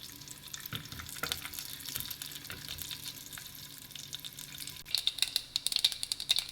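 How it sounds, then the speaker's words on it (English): Mustard seeds, methi seeds, dry red chili and curry leaves sizzle and crackle in hot oil for a sambar tempering, a soft, steady frying hiss with louder popping bursts toward the end. "For the sambar, I am going to temper mustard seeds, methi seeds, dry red chili and curry leaves."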